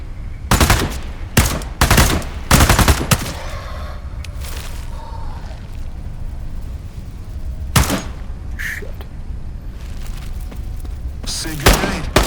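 Gunfire in the VR shooter Into the Radius 2 during a ghost town firefight: bursts of close, sharp automatic shots and single cracks come in clusters, with pauses and distant rattles between them.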